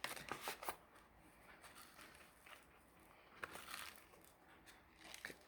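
A small paper seed packet for tomato sowing is opened in a quiet room with crisp crinkles and rustling taps, bunched at the start and returning in short faint bursts.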